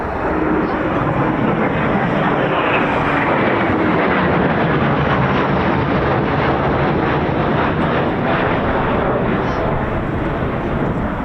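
Two Eurofighter Typhoon FGR4 jets roar past at RAF Coningsby, a loud broadband rushing thunder that holds steady for about ten seconds before tailing off, with a voice speaking underneath.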